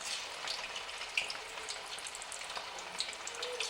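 Chicken pakoda pieces fry in hot oil with a steady, close hiss of sizzling and small pops and crackles breaking through, alone with no voices.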